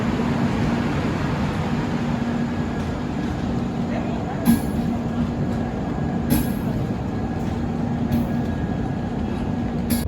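A long train heading toward Pune rolls on with a steady, loud rumble heard from on board, with faint periodic clanks from the rails and a muted voice in the background.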